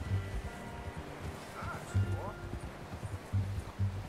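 Horse hooves clopping at a steady walking pace in Red Dead Redemption 2, moderately close, with rhythmic thuds recurring under ambient game sounds and a faint background murmur.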